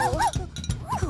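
A cartoon dog gives several quick, high, yappy barks and whimpers in a short burst, close and clear.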